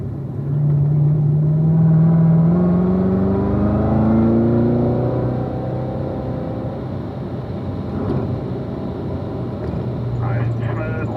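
A race car's engine rises and then drops in pitch through a series of downshifts as it brakes for turn 7 at the Ron Fellows circuit. The drone is close and loud under a voice talking.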